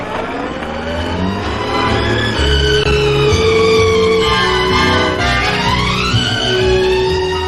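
A 1956 Austin A35 car pulls away, its engine loud and close as it accelerates with rising revs and gear changes, steady throughout with no voices.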